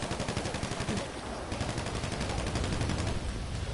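Continuous bursts of automatic gunfire in GTA 5, aimed at the player. The rattling is quick and steady, fairly distant and subdued.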